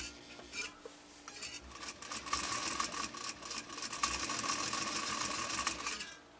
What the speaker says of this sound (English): We're going to basically just stitch a couple inches down